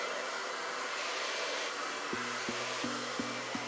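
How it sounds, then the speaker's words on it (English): Hair dryer blowing steadily during a salon blow-dry of long hair, a continuous broadband whoosh with a low motor hum that shifts in pitch as the airflow setting changes near the end. "Now that I've finished Raquel's blow dry"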